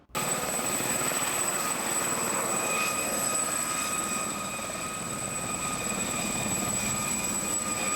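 A low-flying aircraft, apparently a helicopter, circles over crop circle fields in an ancient countryside landscape. Its engine and rotor drone stays loud and constant from start to finish, with no voices.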